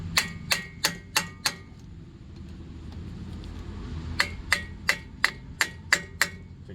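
Hammer strikes on an impact screwdriver set against a brake rotor during a front pad and rotor change on a 2021 Kia Telluride: five sharp, evenly spaced metallic hits, a pause, then about seven more, close and clear over a low background hum.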